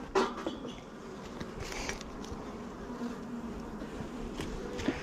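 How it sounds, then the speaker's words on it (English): A dense, steady buzzing of many bees around a hive fills the air close by, a continuous droning hum with occasional louder passes near the listener. "Lots and lots of bees"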